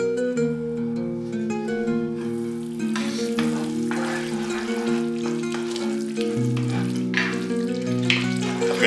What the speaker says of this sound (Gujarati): મીડિયમ ગેસ ઉપર સૂકા મસાલાને ગ્રેવીમાં સરસ મિક્સ થવા દઈએ